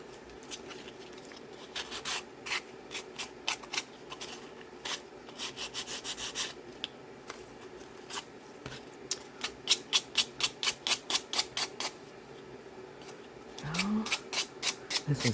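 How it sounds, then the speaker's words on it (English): Sandpaper rubbed over a decoupaged wooden tag in repeated quick strokes, the scratchy passes coming in bursts close to the mic, with brief pauses and a busier flurry toward the end. "This one's sanding off really easy."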